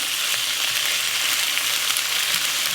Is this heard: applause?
no